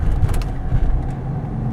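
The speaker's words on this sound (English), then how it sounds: "Effortless power going up the hill, going over the speed bumps over here, quite smooth" A 2001 Cadillac DeVille rolls over speed bumps on a hill, its engine and road noise forming a steady low rumble with a few soft thumps near the start, close and moderately loud.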